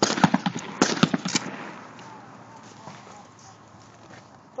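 A shotgun fires at a clay target outdoors, a cluster of sharp, loud cracks in the first second and a half, then a long fading tail into quiet ambience.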